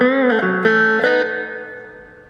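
An electric guitar played through Peavey Ampkit pedals with noise gate and reverb sounds a few sustained notes and chords in quick succession, ringing out and fading with a reverb tail, alone and clear.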